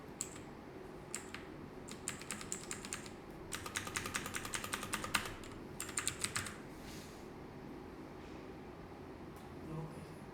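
Bursts of rapid key clicks from a computer keyboard, typed in short clusters with pauses between them, fairly close over a steady low room hum.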